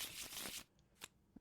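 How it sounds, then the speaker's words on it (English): Playing cards being shuffled, a quick riffle burst at the start followed by a couple of soft flicks and taps, faint and close in a quiet room. "What you hear is me shuffling in the background."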